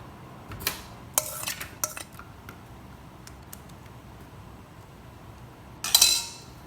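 Pumpkin seeds tossed with salt and seasoning in a bowl, with a few sharp clinks and scrapes of a utensil early on, a quiet stretch, then a louder rattling toss at the end.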